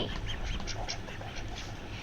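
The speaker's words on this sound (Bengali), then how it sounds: "হাঁস হাঁসগুলো ক্ষুধা লেগেছে" A cluster of hungry ducks on a duck farm quacks continuously close by, overlapping calls over a dense, noisy background with no talking.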